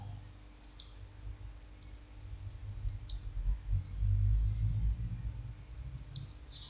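A computer mouse clicking a button on a website: a few faint, sparse clicks spread across the span, sitting over a steady low rumble in the room.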